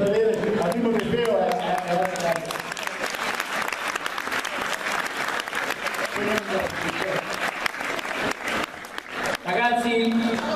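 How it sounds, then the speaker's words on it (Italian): Students at a liceo scientifico applaud their teachers at a school meeting with a musician, steady dense clapping filling the room with voices mixed in and occasional shouts over it. "un applauso va comunque ai vostri insegnanti"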